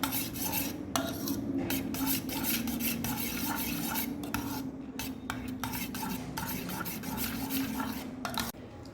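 A spoon stirs through raita mixed with sweet and spicy boondi, giving a steady close scraping, swishing rub against the bowl that runs continuously with brief pauses.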